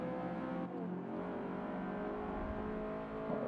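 A car engine in Forza Motorsport 5 revs hard and holds a steady, loud, harmonic-rich drone, with a brief dip as the gear shifts, before it climbs again.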